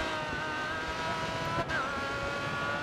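Koenigsegg Agera race car in GRID Autosport multiplayer, engine holding a steady, high, buzzing drone at full throttle, with a brief dip in pitch partway through before the strain resumes.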